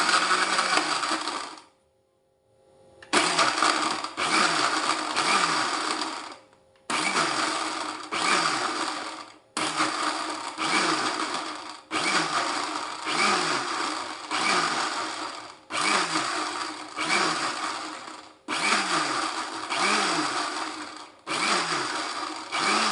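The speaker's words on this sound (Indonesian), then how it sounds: "Blendernya jangan seterusnya ya, sebentar-sebentar biar panas dari pisau blendernya tidak mengurangi kandungan yang ada di air beras dan di bawang merahnya ya" An electric blender chops rice water and shallots in short pulses: about a dozen loud whirring bursts, each a second or two long, separated by brief pauses, with one longer gap near the start.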